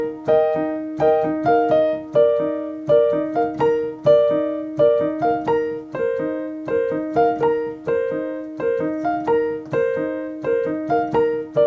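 A solo piano plays the full repeating figure of a song, a steady, rhythmic pattern of struck notes over a sustained bass, close and clear with no voices.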